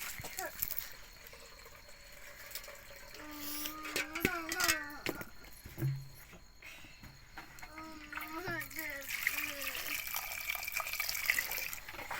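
Running water splashes and trickles as green chillies are rinsed by hand, with intermittent sloshing and a voice speaking briefly in between.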